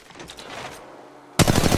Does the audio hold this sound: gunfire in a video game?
yes